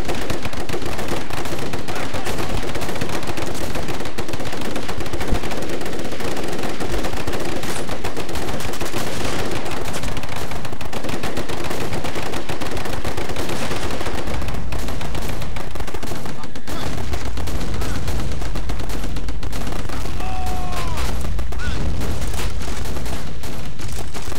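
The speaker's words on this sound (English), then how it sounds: "now that he's just sat there and shooting us all" Dense, continuous gunfire and machine-gun bursts from the video game Men of War: Red Tide, loud and sustained throughout, with a faint voice talking underneath.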